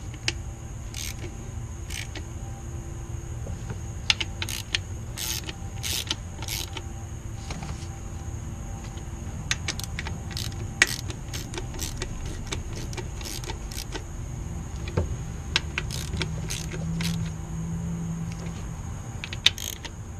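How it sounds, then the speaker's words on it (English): A torque wrench tightens valve cover bolts on a 2005 Honda Odyssey 3.5L, with repeated sharp ratcheting clicks in short bursts over a low mechanical hum, close and without talk. "Now we're going to go ahead and torque them."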